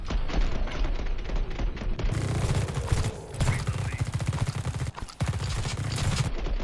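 Gunfire in the space marine tactical game The Red Solstice, rapid continuous automatic bursts with booming low thuds, loud and dense throughout with a brief gap near the end.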